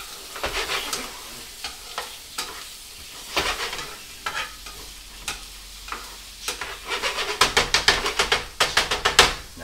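Shrimp and vegetables sizzle in a hot pan as a utensil stirs them, with repeated scraping clatters that grow busier and louder toward the end.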